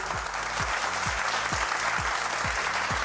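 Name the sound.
audience applause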